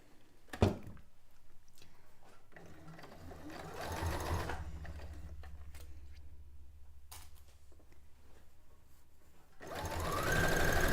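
Sewing machine stitching fabric for a cone-shaped cape or dress, a quiet low whir in two short runs, the second building louder near the end, with soft clicks and handling noises between.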